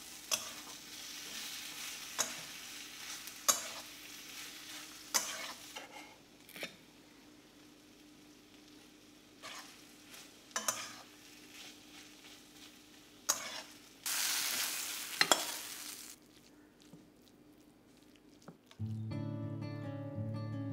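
A fish filling with fried onions, fried cashews and chopped green chilli is stir-fried in a pan. A spatula scrapes and stirs in irregular strokes over a low, steady sizzle, with a brief tonal sound near the end.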